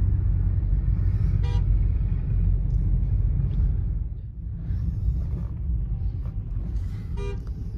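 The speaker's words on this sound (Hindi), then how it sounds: "ये देखो हॉर्न पे हॉर्न" Vehicle horns toot in short bursts over a steady, loud road rumble of traffic on the mountain road to Leh, with a couple of distinct honks standing out from the continuous engine and tyre noise.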